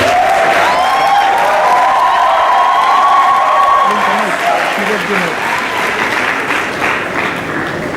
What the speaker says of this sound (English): yes, round of applause for them.